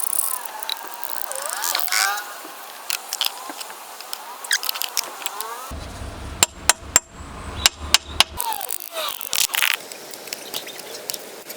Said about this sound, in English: hammer every bolt a few times so that I have a guarantee nothing's gonna snap off